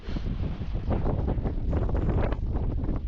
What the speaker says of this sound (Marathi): गार वारा आहे, एकदम मस्त वाटतंय.